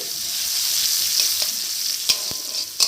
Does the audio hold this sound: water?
no